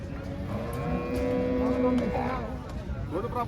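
A cow at the Mansa cattle market gives a long, drawn-out moo that rises over a steady background of crowd noise and voices.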